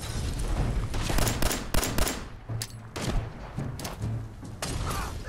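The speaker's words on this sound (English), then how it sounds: "Stop throwing grenades!" Grenade explosions and gunfire in the video game Fallout 4: a dense, chaotic run of sharp cracks and heavier thuds repeating rapidly throughout, loud and close.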